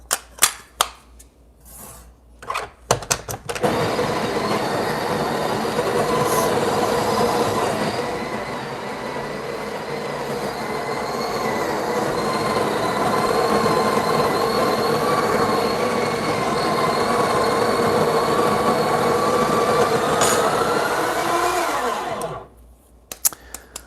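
A Breville Barista Express built-in burr grinder grinds coffee beans through a 3D dosing funnel, a loud, steady whirring drone running for about twenty seconds before cutting off, with no talking.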